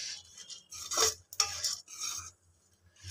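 Walnuts stir-fried in ghee in a pan while making a no-sugar dry fruit laddu, giving a sequence of close scraping, stirring and rattling bursts with faint sizzling between them and no voices.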